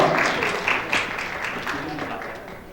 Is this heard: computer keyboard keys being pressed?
no